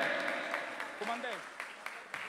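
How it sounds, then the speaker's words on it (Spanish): Audience clapping at a live merengue show in a nightclub, a short burst of moderate applause and scattered claps with crowd voices and a singer's voice mixed in, fading toward the end. "Un aplauso para el merengue, mi gente."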